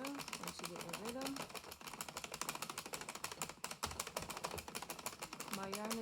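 An Addi Express knitting machine casting on with thick yarn gives a rapid, continuous clacking of plastic needles, close and busy, while someone talks over it.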